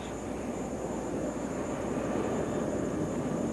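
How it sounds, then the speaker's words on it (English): A Lockheed S-3 Viking jet does a touch-and-go on an aircraft carrier, heard as a steady, fairly faint engine roar that holds evenly from start to finish. "The tailhook has not been lowered, meaning that the pilot will be doing a touch and go."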